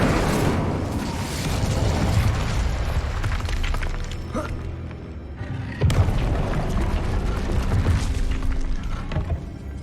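Incendio fire spell cast in Hogwarts Legacy, a loud rumbling burst with booming, crackling fire over dense game background noise, swelling again near the middle.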